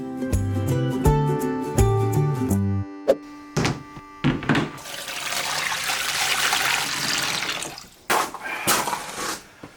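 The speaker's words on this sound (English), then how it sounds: "So let's let her have her bath, but we have some more baths to give." Water splashes and trickles in a tortoise's bath, with a few hollow thunks and knocks early on, then a steady wash of running, splashing water that pauses briefly before resuming.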